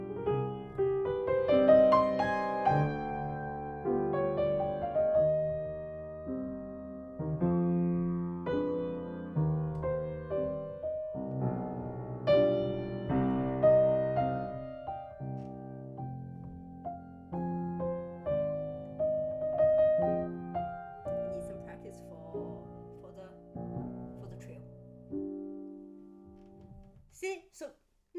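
Solo piano plays lyrical phrases of a Chopin nocturne, a clear melody over soft arpeggiated chords with gentle swells and pauses between phrases, close and unaccompanied.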